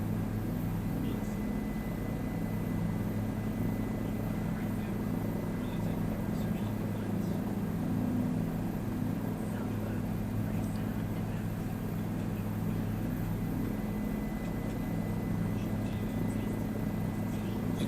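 A game helicopter flies in a flight simulator, its rotor and engine drone steady and continuous at an even loudness throughout, with no break.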